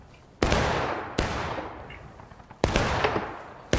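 Musket volleys at a Civil War reenactment on Hagerstown Turnpike, four sharp loud reports spaced irregularly, each trailing off in a long rolling echo across open ground.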